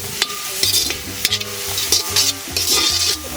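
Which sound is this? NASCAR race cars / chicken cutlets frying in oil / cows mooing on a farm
chicken cutlets frying in oil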